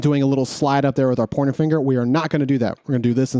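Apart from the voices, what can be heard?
No everyday noise stands out behind the speech.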